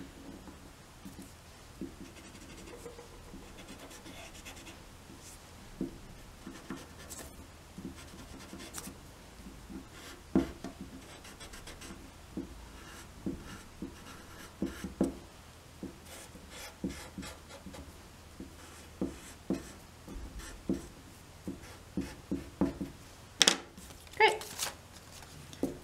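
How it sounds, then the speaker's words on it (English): A rubber eraser rubs pencil lines off paper in soft, scattered scrubbing strokes that grow quicker and more frequent toward the end, faint and close. "if this has any pencil lines, you could erase that too, but you have to be very gentle so you don't break any of it"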